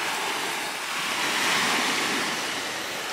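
Ocean surf breaks and washes onto a beach in a continuous loud hiss, swelling at the middle, with wind buffeting the microphone.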